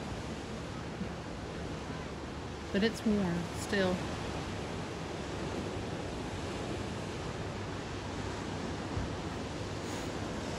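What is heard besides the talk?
ocean waves breaking on the beach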